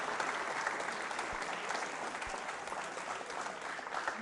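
A school audience at a Bright Future Public School quiz show gives soft, continuous applause, heard faint and distant as an even wash of clapping.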